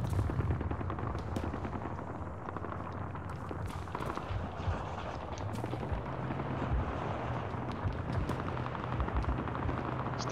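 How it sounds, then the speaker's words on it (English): Gunfire in Arma 3 crackles on and off through a steady rumbling background, with scattered sharp shots and a low engine-like drone, at moderate distance and no talk. "Somebody shooting?"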